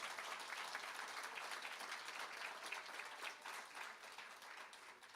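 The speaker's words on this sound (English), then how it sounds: "Please give them a round of applause." Steady, dense applause from an audience at the Dunrobin Prep 2023 graduation ceremony, greeting the graduates; even clapping fills the whole stretch, moderately distant, tapering slightly near the end.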